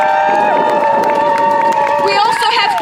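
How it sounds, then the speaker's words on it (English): A crowd cheering and whooping loudly at an outdoor protest picket, a dense, continuous roar with overlapping voices and scattered shouts close by. "So a big cheer for Kamran Ahmed."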